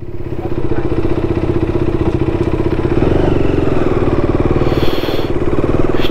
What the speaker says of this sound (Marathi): बाईक घेतली, आता निघालो